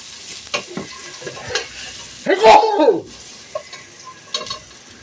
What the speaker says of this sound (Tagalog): Nagigisa na para sa miswa.